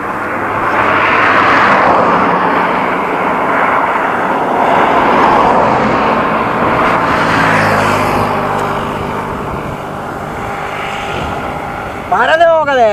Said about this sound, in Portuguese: Ninguém para, passa um, passa outro, passa caminhão, passa avião, passa tudo.